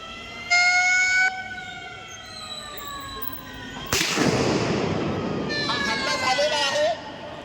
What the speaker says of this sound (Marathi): हा पब्लिकला अवेअर करण्यासाठी सायरन वाजला जातो